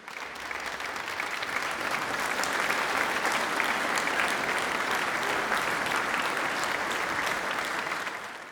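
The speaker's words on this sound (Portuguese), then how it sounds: "Uma salva de palmas para Jesus." A church congregation at an evening service breaks into sustained, dense applause, a steady roar of many hands clapping together that stays at an even level before tapering off at the end.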